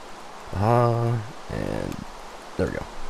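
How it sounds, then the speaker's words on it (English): Steady rain falls in the Minecraft video game as a soft, even hiss, with someone talking over it throughout. "Oh hey, it's raining."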